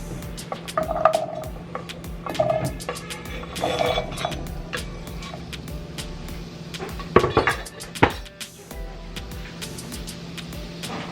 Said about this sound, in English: I added a tablespoon of olive oil to this pan. I heated it up. And now I'm just going to add the potatoes in here